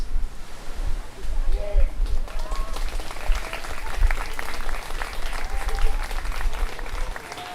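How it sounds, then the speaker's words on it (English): Loud, sustained clapping from an art festival crowd fills the scene, with a few faint whistles and cheers rising through the steady applause. "One big round of applause, louder for them."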